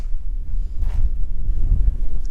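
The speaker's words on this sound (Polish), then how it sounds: "ale wiatr" Strong wind buffeting the microphone with a steady low rumble and gusts for a couple of seconds, no voices, in the mountains near Žabljak, Durmitor, Montenegro.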